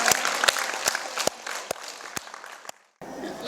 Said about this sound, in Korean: 나 자신을 위해서 박수 한번 치십시오